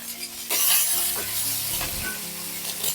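Garlic, green chilli and onion hit hot oil with dried red chilli in a pan for banana flower thoran, bursting into a sizzle with stirring and scraping, fairly close and moderate in level.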